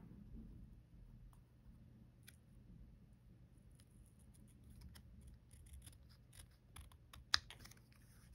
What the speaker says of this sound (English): So I'm going to use scissors,